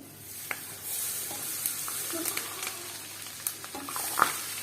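Hot oil poured into a sesame and raw mango chutney, sizzling softly and steadily with faint stirring clicks throughout at low volume.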